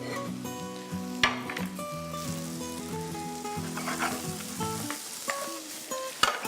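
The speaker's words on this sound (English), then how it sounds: "So the onions are getting slightly caramelized whilst they're also getting cooked." Onions sizzle steadily in a hot skillet while skillet chicken cooks, with a continuous frying hiss, a few sharp clicks of utensils or pan contact, and tonal background music playing over it, no talking.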